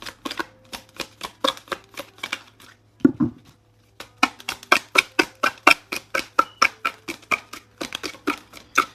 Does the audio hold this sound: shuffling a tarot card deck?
yes